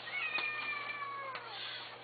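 A playful young female kitten gives one drawn-out, high meow that falls slightly in pitch, close and fairly soft, with a faint steady hum underneath.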